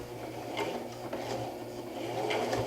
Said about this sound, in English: the sewing machine doesn't have to go at warp speed